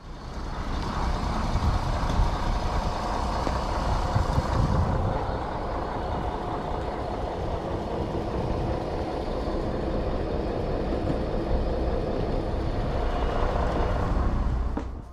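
A Hungarian MÁV-START Bzmot railbus running, a continuous diesel engine drone and rumbling motion noise heard from on board, steady and fairly loud with a slight change in tone partway through.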